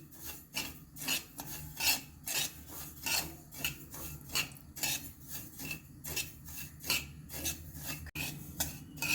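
Poppy seeds stirred and roasted over low heat in a hot kadhai give a steady rhythmic scraping and rattling, with repeated spoon strokes against the metal pan and a dry granular rustle throughout.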